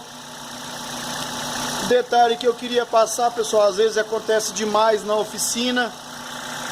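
A misfiring Chevrolet Corsa 1.0 flex engine idles in a repair workshop, giving a steady low hum throughout while someone talks over it.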